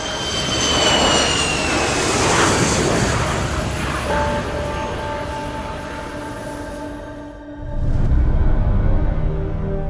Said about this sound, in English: The aircraft operating First Air Flight 6560 is a Boeing 737-210C.